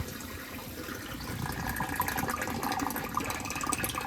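Water drains steadily out of a repurposed olive barrel used as a rain barrel, a continuous close gurgling, splashing flow that grows slightly busier toward the end.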